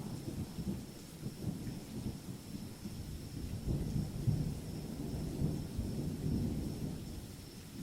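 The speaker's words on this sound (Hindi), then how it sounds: "बादलों की गड़गड़ाहट के साथ तेज मूसलाधार बारिश भी होने लगी।" Deep rumbling thunder rolls under a steady wash of heavy rain, low and continuous, with no voices.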